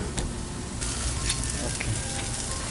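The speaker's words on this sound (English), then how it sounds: "We'll sear it on one side, then we sear it on the other side." A leg of lamb sears in a hot pan with a steady, dense sizzle, close and continuous, with a few faint clicks and no talking.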